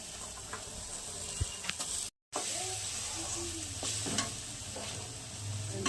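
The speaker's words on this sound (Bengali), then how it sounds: "এবার ফুলকপিগুলো দিয়ে দিচ্ছি।" Cauliflower florets hit a hot pan for a Bengali rohu fish curry with potato, sizzling steadily while a spatula scrapes and stirs in irregular strokes, with a brief dropout partway through.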